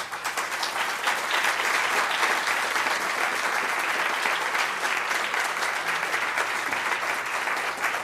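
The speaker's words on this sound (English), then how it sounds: "So let's give a round of applause to Ed." A large audience applauds steadily at a NASA celebration marking Voyager's 35th anniversary in space, a dense, even wash of clapping that holds at full strength throughout, fairly close, with no talk over it.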